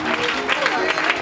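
Worshippers clap their hands at a lively church deliverance service, a dense patter of applause mixed with crowd noise and voices over a short burst.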